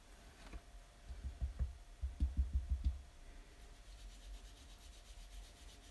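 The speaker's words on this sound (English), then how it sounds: "Now I'm just blotting this off" A sponge dabbed onto embossed paper to blot off ink, a short series of soft, muffled thumps and rubs in quick succession, close and quiet, then a faint hush.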